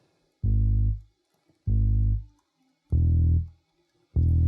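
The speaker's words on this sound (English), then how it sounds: "Normally on reggaeton, the standard is like that basic sub bass." Deep, booming reggaeton sub bass notes played four times in a slow, even pattern, each swelling briefly then cutting off, with silence between.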